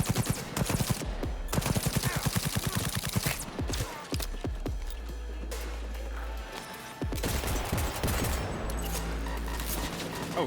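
Shotgun fire in the video game Cyberpunk 2077 sounds as loud, rapid bursts of booming blasts with short gaps between them, layered over the game's low droning music.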